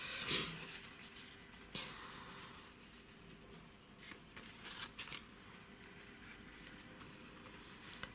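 Paper for a mixed-media concertina book is cut to size, with faint, close rustling and a few sharp snipping or slicing sounds against a quiet room, with no talk.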